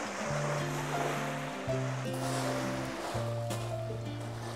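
Waves wash gently and continuously against the shore of a small cove, a steady close surf wash with sustained tonal music playing over it.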